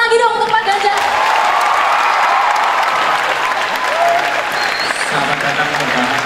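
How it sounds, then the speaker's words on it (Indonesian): A crowd of new university students at Sanata Dharma applauds Ganjar Pranowo, loud sustained clapping with cheering, while a voice and music carry faintly underneath. "Beri tepuk tangan lagi dong untuk Pak Ganjar."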